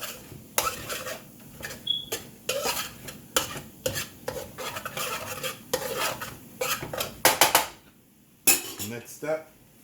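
A utensil repeatedly scrapes and clanks against a pan while scrambled eggs are stirred into chicken fried rice, rhythmic loud strokes over a low sizzle, with a short pause before a final few scrapes.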